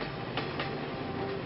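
A passenger train rolls along the rails with a continuous loud rumble and a couple of sharp clacks from the wheels passing over joints.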